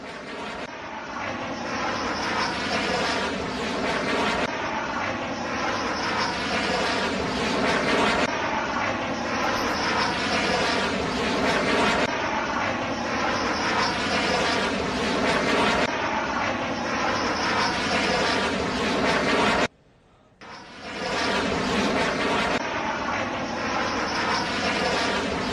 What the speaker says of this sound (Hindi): ये हम गर्जना आपको सुना रहे हैं। ये राफेल जिस समय लैंड कर रहे थे अंबाला एयरबेस की